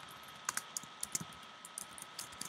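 Faint, sparse clicks of a computer keyboard as someone types code in a programming editor, with a few irregular keystroke bursts over a low steady hum.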